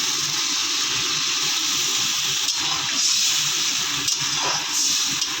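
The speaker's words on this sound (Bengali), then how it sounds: "কিছুক্ষণ কষানোর পর আমরা একটু জল দিয়ে দিচ্ছি।" Water poured into a pan of fig curry during Bengali home cooking, a steady loud gushing and hissing stream that runs continuously without pause and with no talk over it.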